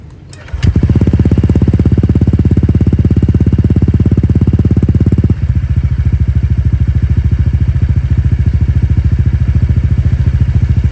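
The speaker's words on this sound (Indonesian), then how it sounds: "kita cek sound bareng-bareng knalpot standar racing yang sudah saya oprek sedikit CVT-nya dan intake-nya" A Honda Vario 125 scooter with a racing exhaust and modified CVT and intake starts and idles with a loud, steady, rapid exhaust rumble close up, its pitch dropping slightly partway through, with no voices.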